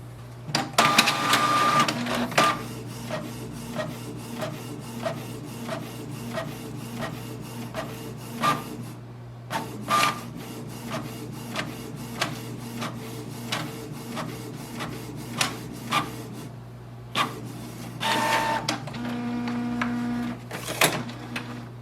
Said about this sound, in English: So this way we can print the ID card using the inbuilt feature of this printer.